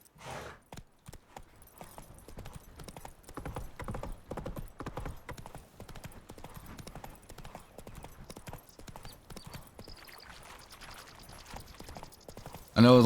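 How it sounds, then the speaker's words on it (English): Rhythmic clip-clop of a horse galloping in a video game, steady hoofbeats continuing for several seconds at moderate level with a faint mechanical jangle, ending in a sudden louder sound. "Why are you kicking Roach?"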